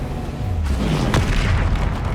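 A spell explosion in the Hogwarts Legacy video game, a loud deep boom with a sharp burst in the middle, rumbling continuously over dense game noise.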